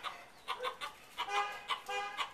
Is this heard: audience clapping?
no